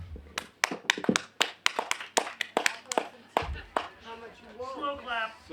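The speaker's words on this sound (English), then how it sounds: "Slow clap." Sharp hand claps come one after another at an outdoor fall festival, about a dozen and a half in an uneven rhythm, followed by a voice speaking.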